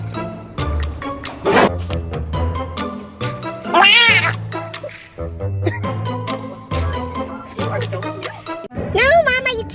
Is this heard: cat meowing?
yes